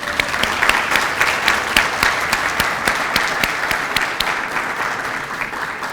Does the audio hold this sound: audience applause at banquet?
yes